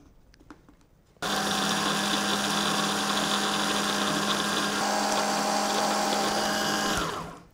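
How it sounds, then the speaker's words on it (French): A food processor grinds pistachios into powder for praline, a loud steady whirring roar that starts abruptly after a quiet moment, holds evenly for about six seconds, then cuts off. "On continue à mixer."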